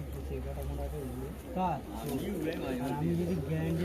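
Giribaz tumbler pigeons coo softly in a coop while someone talks close by, their low throaty calls bubbling under and between his voice.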